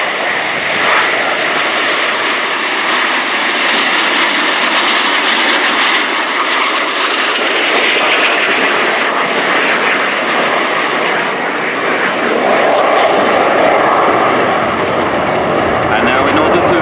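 Patrouille Suisse jets roaring through an acceleration circuit in formation at an airshow, a loud sustained engine roar that swells and shifts, with a commentator talking over it.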